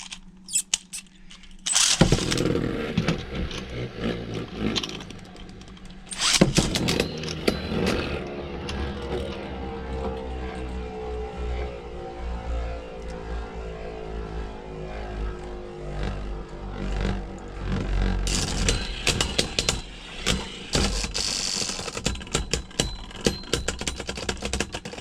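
Beyblade Burst tops, including Burst Spriggan and Barricade Lucifer, battle in a plastic stadium: rapid clattering and scraping of spinning tops colliding, with sharp bursts of impacts at launch and near the end, and a whirring spin between.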